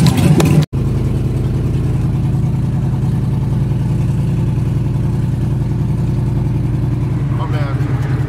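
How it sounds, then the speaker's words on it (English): A loud C10 truck fitted with LS turbo exhaust manifolds drones steadily while driving, a deep, heavy rumble filling the whole clip from close by, after a brief sharp cutout near the start. "The truck is just stupid loud right now."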